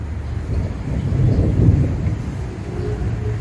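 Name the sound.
rain and thunder during rainy season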